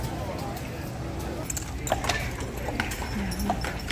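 Horse hooves clip-clop on pavement in a steady rhythm, with street noise and voices in the background, on Mackinac Island.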